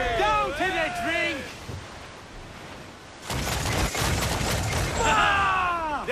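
Ship cannons fire in Assassin's Creed 4: Black Flag during a naval battle, a dense booming volley following and overlapping crew voices shouting in the game.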